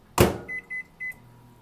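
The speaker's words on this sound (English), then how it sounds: "then I microwave it for a minute." A microwave oven door thumps shut on a wet chicken sponge, followed by three crisp, evenly spaced beeps as the oven starts, close and clear in a quiet kitchen.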